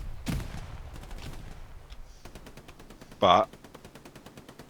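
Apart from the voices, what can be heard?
machine gun fire in a video game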